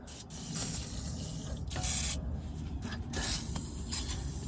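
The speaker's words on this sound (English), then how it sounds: "Spray some of the good stuff." An aerosol can sprays onto rusty strut parts of a 2012 Honda Civic in a steady hissing stream that runs for several seconds, with short pauses and some rubbing and scraping mixed in.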